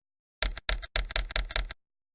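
Computer keyboard keys pressed in a quick burst of six sharp, loud clicks at close range while navigating spreadsheet cells, with no talking.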